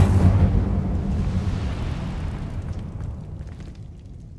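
A burst of fire erupts from the Incendio spell in Hogwarts Legacy, a loud, close whoosh and boom that trails off over several seconds with no voices over it.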